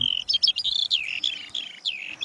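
A skylark sings in the open, a fast run of bright, warbling chirps and trills at close range, clear against a quiet background.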